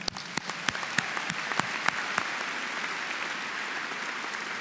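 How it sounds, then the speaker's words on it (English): A crowd at a spring university commencement ceremony applauds, sharp close claps ringing out over a broad, sustained wash of clapping from a large audience. "Let's applaud one more time."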